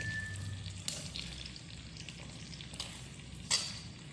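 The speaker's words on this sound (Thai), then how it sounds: "อันนี้แบบเป็นตอนเนื้อแดดเดียวเลยทอด" Sun-dried beef fries in a pan, a continuous soft sizzle with occasional crackles and brief stirring scrapes, heard close and fairly quiet.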